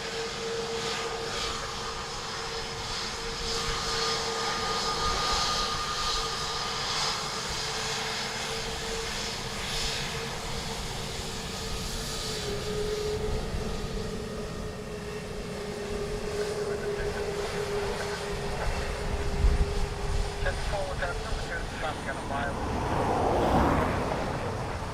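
An aircraft comes in to land on runway 28 left at Dublin Airport, a steady, fairly loud engine drone with a tonal whine that swells near the end as it passes close.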